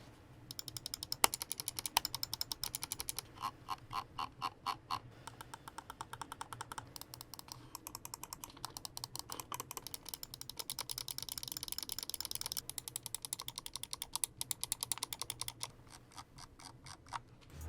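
Logitech G303 Shroud Edition wireless gaming mouse clicked repeatedly up close, crisp sharp clicks in quick regular bursts, alone without talk.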